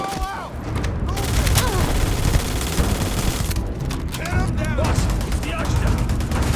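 Rapid gunfire fills a firefight in Starfield, with bursts of shots running continuously and loud and mixed with impacts and booms. Voices shout through the action.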